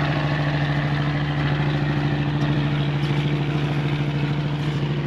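The engine of a self-propelled river barge runs at a steady idle-like drone, a close, constant low hum with an even throbbing pulse and no other sounds.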